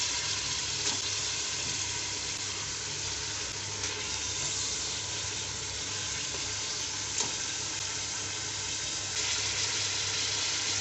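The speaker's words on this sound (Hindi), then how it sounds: "गोश्त डालने के बाद इसको 2 से 3 मिनट के लिए फ्राई कर लेंगे।" Beef shank meat fries with ginger and garlic for nalli nihari, a loud, dense, continuous sizzle filling the whole stretch, with occasional faint scrapes and taps of a spoon and no talking.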